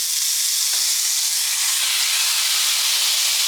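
A buffalo steak sizzles loudly in a hot pan, a dense, continuous hiss and spatter that stays steady and close the whole time.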